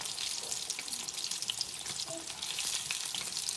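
Food frying in cooking oil over low heat for a home meal for guests, a steady dense crackling sizzle throughout, close and fairly loud, with no voices over it.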